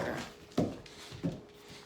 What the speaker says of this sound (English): Ever have a 140-pound dog yanking on you?